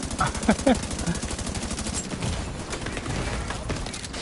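Heavy automatic gunfire in The Division 2 video game, a dense rapid rattle of shots with a few sharper bursts early on, loud and continuous throughout.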